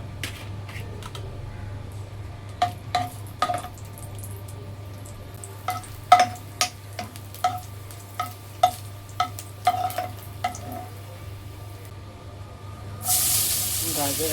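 Carrots for gajar halwa are sautéed in ghee in a pan, giving a soft background sizzle broken by a series of crisp, close stirring clacks and scrapes in an irregular rhythm, with a burst of louder hiss at the end.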